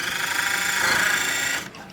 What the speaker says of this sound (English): this drill is like osteocodification. You go slowly